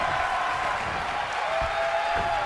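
A WWE 2K23 NXT wrestling arena crowd roars and applauds in a steady, loud wash, with a faint tonal line running through the noise.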